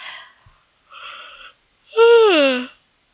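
A person yawns close by, with two short breathy exhales and then a long, voiced, drawn-out yawn whose pitch slides down. It is heard alone against silence.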